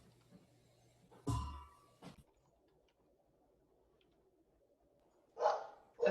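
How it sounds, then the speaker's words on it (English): Several dogs bark in short bursts, one near loud bark then a couple of sharper yaps a few seconds later, with a quiet pause between and faint background noise. "You can hear the cacophony of barks."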